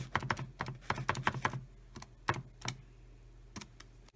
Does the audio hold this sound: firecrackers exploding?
no